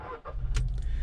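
A Volkswagen Polo TSI engine starts with a brief click and a short burst of cranking, then settles into a low, steady idle rumble.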